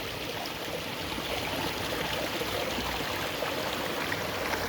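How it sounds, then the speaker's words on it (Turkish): A natural spring beside old olive trees in Muğla runs with a steady, soft rushing of flowing water, even and continuous at moderate distance. "Muhteşem bir doğal kaynak suyu"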